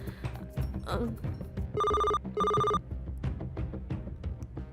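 A telephone in a TV news studio rings twice in two clear electronic bursts of about a second each, standing out over a busy background of music and voices.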